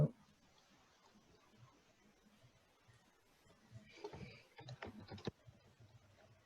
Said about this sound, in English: I hear somebody typing